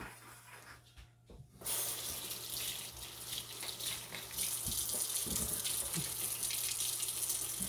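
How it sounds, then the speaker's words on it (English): A dish being washed and rinsed under a running kitchen tap, with loud steady streaming water close by that briefly cuts out, then gushes back and runs on with small splashes and clatters. "Rinse it out."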